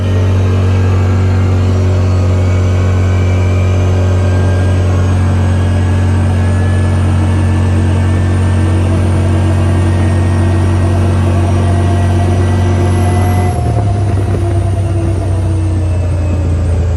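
A CFMOTO off-road vehicle with a new belt and clutch settings drones loudly at steady high revs during a ride, its engine pitch dropping sharply near the end, heard close and alone.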